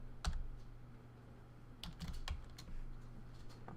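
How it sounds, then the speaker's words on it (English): Quick typing on a computer keyboard, a few short clusters of close key clicks over a quiet background hum, with no talking. "So I can just type that in, dr period."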